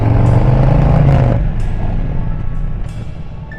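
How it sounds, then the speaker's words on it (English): A motorcycle braking hard in a straight line from about 20 to 25 miles an hour on a rider training course: the engine drones loudly, then a rough skidding scrape fades as the bike slows. "A little bit too much of a skid there."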